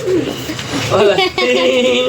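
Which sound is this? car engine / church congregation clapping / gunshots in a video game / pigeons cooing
pigeons cooing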